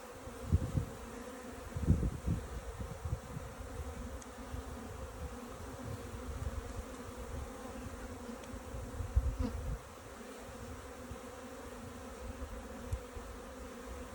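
Honeybees buzz in a steady, close drone during a spring hive inspection, a continuous hum with a few faint knocks of frame handling and no talking.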